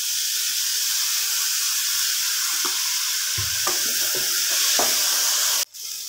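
Macaroni pasta frying in a pan with chili sauce, soy sauce and vinegar, giving a steady loud sizzle with occasional stirring clicks and scrapes, and no voices.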